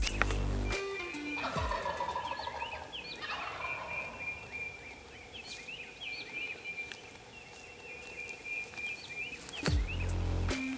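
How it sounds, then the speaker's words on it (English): Wild turkeys gobble from their roost at dawn in a repeated rolling chorus that sounds moderately distant against quiet woods, with each gobble rising and falling over several seconds. "They were a lot closer, gobbling on the roost"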